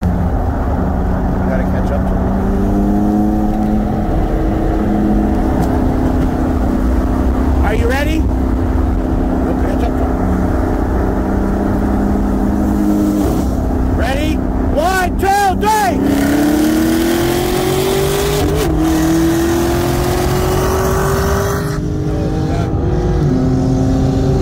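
A Camaro ZL1 1LE and a BMW M4 run a roll race from 50 mph, their engines roaring continuously and pulling up through the revs with audible gear shifts. Voices talk inside the car under the engine noise.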